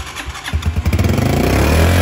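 A black Honda CG 100 motorcycle engine catches and races at a high idle, a loud, fast, steady thumping close by that climbs and holds.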